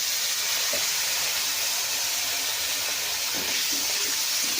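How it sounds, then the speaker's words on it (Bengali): A little water splashes into spice paste frying in a pan, setting off a loud, steady sizzle and hiss of steam that carries on throughout. "আর এবার দিয়ে দিচ্ছি, যাতে মশলাটা পুড়ে না যায়, হালকা পরিমাণ একটু জল।"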